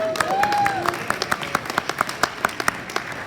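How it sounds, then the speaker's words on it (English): Audience applause during a county State of the County address, sparse individual claps tapping out at a steady pace, fairly distant, with talk in the hall underneath. "Oh, that's worth applause, not to me."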